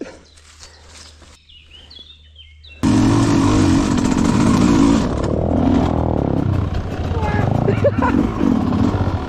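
An enduro dirt bike with a breakdown, just worked on at the spark plug, starts abruptly after a few seconds of quiet background sounds, then runs loud and steady close by with a rough, uneven engine note.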